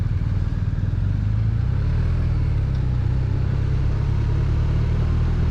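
A 2022 BMW R1250RT motorcycle's engine runs steadily while riding, a loud, continuous low drone with a faint clatter, close and unbroken from start to finish.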